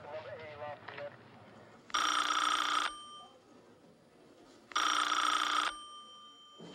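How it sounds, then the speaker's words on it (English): A telephone bell rings twice in two long, loud bursts separated by a pause, with brief talk before the first ring in an office setting. "Just answer the phone"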